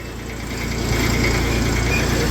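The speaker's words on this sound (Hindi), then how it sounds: "ट्रैक्टर पे ट्रैक्टर क्रॉस हो रहे हैं भाई" Tractors roll past on a rural road near a sugar mill: a loud, steady diesel drone that swells over the first second and holds close and strong, with a low engine hum running underneath throughout.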